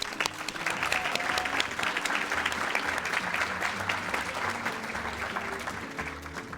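Sustained audience applause for an honoree at the 2019 Orange County Public Schools Hispanic & Latin American Heritage Celebration, an even roomful of clapping held for several seconds before easing slightly at the end.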